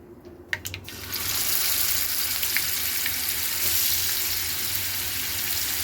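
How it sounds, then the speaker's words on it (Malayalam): Chicken pieces frying in a pan for a fried chicken curry, a few clattering knocks at first, then a loud, steady, close sizzle that hisses on evenly without voices. "നമ്മൾ ഈ കറി ചിക്കൻ വറുത്തിട്ടാണ് വെക്കുന്നത്"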